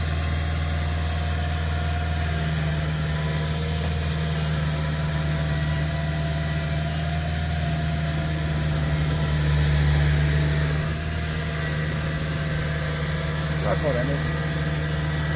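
A Kubota combine harvester idles steadily with a low, constant engine hum and drone, its faulty auger pipe adding a rattling mechanical noise; a voice speaks briefly over it near the end.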